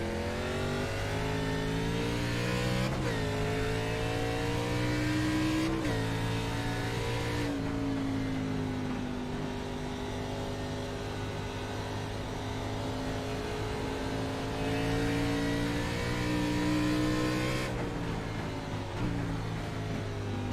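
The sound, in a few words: race car engine revving in a sim racing video game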